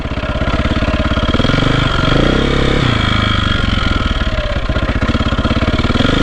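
A 2001 KTM 400 dirt bike engine running loud and close, a steady rapid thumping idle with a brief rise in revs partway through, then settling back to a rough, even chug.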